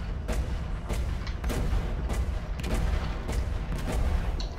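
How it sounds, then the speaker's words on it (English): Cannon fire in a space combat game: a steady series of heavy booming shots, roughly one every half second to second, loud over a continuous rumbling background. "I should use the cannon."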